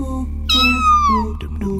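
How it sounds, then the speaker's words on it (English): A little cat gives one clear, drawn-out meow that rises and then slides down, loud and close, in a children's animated series with no instruments behind it. "It is a little cat!"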